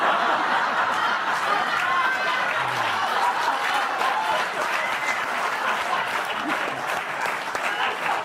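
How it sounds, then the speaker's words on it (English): A television studio audience applauds at length, dense and steady clapping that fills the room and keeps going with scattered laughter and chatter mixed in. "Oh, keep clapping."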